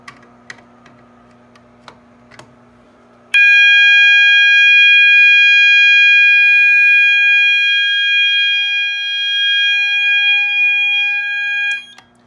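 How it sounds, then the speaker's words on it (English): A loud, steady electronic smoke detector alarm tone blares continuously for several seconds during a test of a mini fire alarm system, following a few soft clicks and taps. "And now we will activate the smoke detector."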